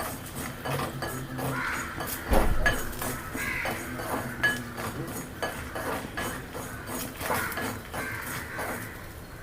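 Horse gram being stirred in a pan off the heat, heard as repeated close metallic scrapes and clinks of a spoon against the pan in an uneven rhythm, with crows cawing in the background.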